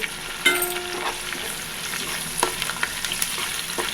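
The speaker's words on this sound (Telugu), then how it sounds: "ఇలా ఆయిల్ సపరేట్ అయ్యేంత వరకు బాగా మగ్గనివ్వండి" Onion and tomato paste simmering in oil for a big-fish curry, giving a steady, soft frying sizzle with a few sharp spoon clicks and taps scattered through.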